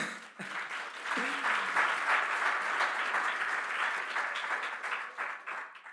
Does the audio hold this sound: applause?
yes